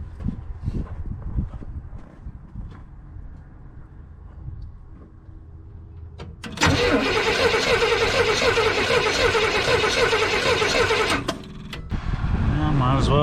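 A 1964 Chevy Nova engine cranked over with a spark plug pulled: after quiet shuffling and a brief voice, the starter whirs loudly and steadily for about five seconds, pauses, then starts cranking again.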